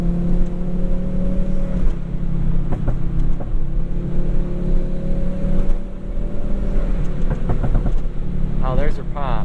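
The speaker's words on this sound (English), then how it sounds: "if I go into L in the transmission, will that kind of hold the lower gear?" A Volvo 850R with a C70 T5 engine swap revs steadily in low gear as the transmission holds the ratio, its engine drone loud and constant throughout, with exhaust pops near the end and people talking over it.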